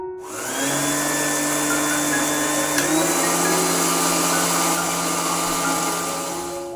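An electric mixer grinder jar whirs loudly and steadily for several seconds, grinding roasted coriander seeds into powder, spinning up at the start and winding down at the end.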